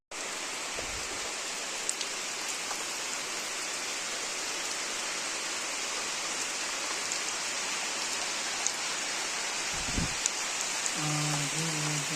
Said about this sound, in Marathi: तर पाऊस परत सुरू झालाय मित्रांनो